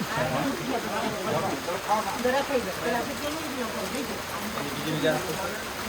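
Rain easing off outside a shop where people have taken shelter, a soft continuous patter under someone talking throughout.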